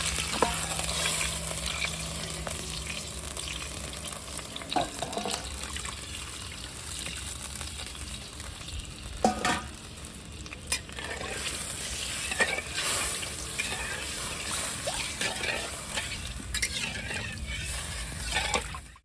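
Onion and garlic frying in a pan for a home-style Manchurian gravy, a steady close sizzle with stirring scrapes and occasional clatter running throughout, no talking.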